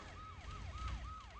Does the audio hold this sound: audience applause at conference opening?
no